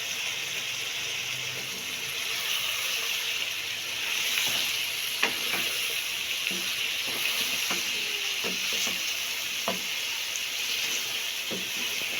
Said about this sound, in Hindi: और तकरीबन तेज आग पे हम इसे 4-5 मिनट के लिए इसी तरह भूनेंगे।